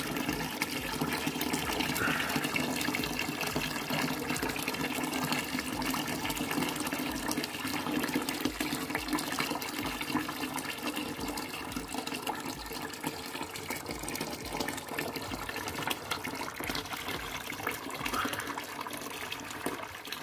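Steady running water from a tap or shower while a dog is bathed indoors, a continuous soft gushing stream heard close and alone.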